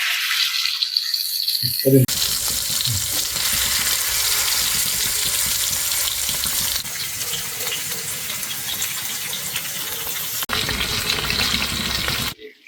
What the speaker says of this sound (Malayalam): നമ്മൾ പിടിച്ച ഒറ്റനെ എല്ലാം കൂടെ ഇന്ന് ഫ്രൈ ചെയ്തെടുക്കാൻ പോവാണ്